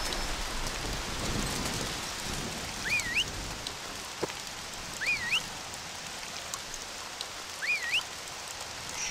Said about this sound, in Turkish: Of, şimşek çakıyor.